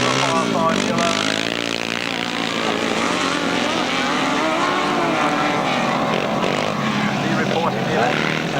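Grasstrack sidecar racing motorcycles roar past in a 1995 race, with continuous loud engine drone and rising and falling pitch sweeps under steady commentary.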